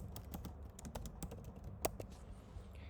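Keys clatter on a computer keyboard while someone types code in Python, a quiet uneven run of light clicks with one sharper keystroke near the middle, heard alone without talk.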